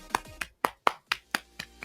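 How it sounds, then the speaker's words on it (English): Audience applause after a speech in a My Hero Academia fan story, heard as about eight separate, fairly faint claps in a steady, evenly spaced rhythm with no talking. "They're all clapping, basically."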